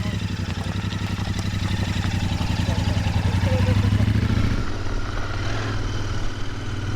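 A Royal Enfield Meteor motorcycle fitted with a sidecar rides along a gravel track, its engine a steady, loud, low thump throughout, then easing to a softer rumble near the end.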